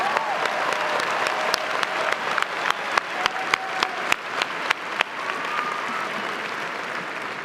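A graduation ceremony audience claps in a steady, lively round of applause, with sharper individual claps and a few louder bursts standing out from the crowd wash throughout.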